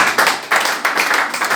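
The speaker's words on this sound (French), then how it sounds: "si tu me comprends, tu peux acclamer" A church congregation applauds during a sermon, with steady clapping in several loud surges over a short stretch and no talk.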